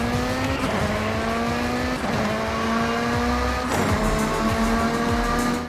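A car driving with a steady engine tone that rises and falls through gear changes, loud and close, with no voices.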